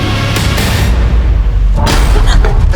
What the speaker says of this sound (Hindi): अरे चला ना गोली